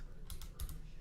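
Fingers type on a computer keyboard in a quick burst of close, crisp key clicks, heard alone without speech.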